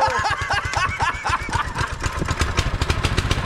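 Engine cranking and catching on the first try, a rapid, loud, close-up chugging pulse that settles into a fast rough idle.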